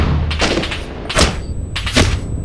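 Gunfire in the combat shooter Six Days in Fallujah: a few heavy, booming shots and thuds in quick succession over a dense background of battle noise, fairly loud and close.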